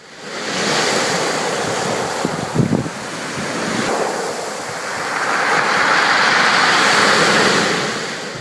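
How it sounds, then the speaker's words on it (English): Water laps and washes against the rocky shore at Cap Bon-Ami in Forillon National Park, Gaspé, Quebec, a steady broad rush of surf with gusting wind buffeting the microphone and a brief knock partway through. "water lapping the shores in Cap Bon-Ami in the Forillon National Park"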